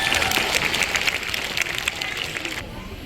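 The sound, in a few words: audience applause at a seal show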